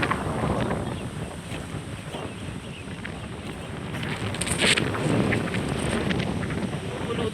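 Strong stormy wind buffets an outdoor microphone in a steady, loud roar for the whole stretch, with gusts swelling midway and no voices over it.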